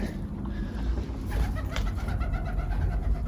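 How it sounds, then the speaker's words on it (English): Pigeons coo inside a stone passage of an Egyptian pyramid, soft low calls repeating through a steady reverberant background hum, fairly close and with no talk over them. "We've got birds still in here."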